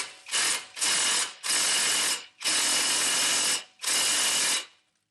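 Ratchet wrench loosening 19 mm front brake caliper bolts on a 2006 Honda Odyssey, five loud, close bursts of rapid clicking separated by short pauses, with no talking.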